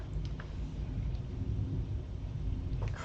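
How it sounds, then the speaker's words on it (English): Thunder from a storm rolls as a continuous low rumble that holds steady throughout, dull and broad, with faint rain-like hiss and no voices. "Can you hear the thunder?"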